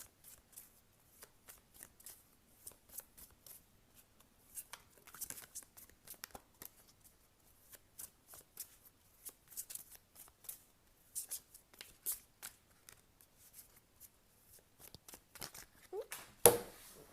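Tarot cards are shuffled by hand in soft, quick, riffling bursts, with occasional cards slipping and being pulled. The sound is close and quiet, with a faint voice at the end.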